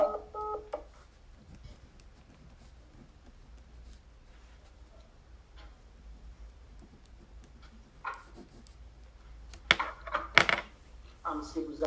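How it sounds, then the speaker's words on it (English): A recorded phone call cuts off abruptly: faint line hiss and low murmuring give way to a burst of sharp electronic beeping tones near the end. "The phone cut off."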